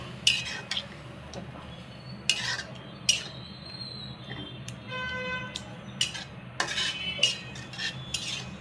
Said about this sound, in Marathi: याच्यामध्ये आपण घेऊ दूध टाकून आणि आता हे घेते मी मिक्स करू